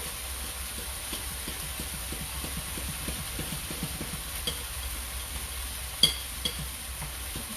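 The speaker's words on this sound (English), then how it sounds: "Just give this a mix around." A mixture stirred in a pan, producing a soft, rhythmic series of scraping strokes over a faint sizzle, fairly quiet and close, with one sharper knock near the end and no voices.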